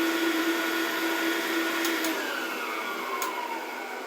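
Electric mixer whipping ingredients for Thanksgiving baking, a steady whirring motor hum with a constant tone that shifts slightly partway through, moderately loud and uninterrupted.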